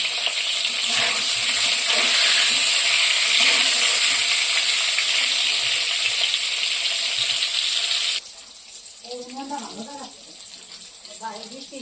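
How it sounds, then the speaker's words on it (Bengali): Sliced pointed gourd (potol) frying in oil in a pan gives a loud, steady sizzle for most of the time, then drops to a quieter hiss while someone talks over it. "লাল লাল করে ভেজে নিয়েছি।"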